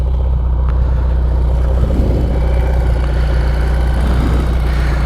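A classic Triumph Bonneville T140v motorcycle with a wet-sumping fault runs loud and close at a high idle, its engine a constant low thrum with slight lifts in revs.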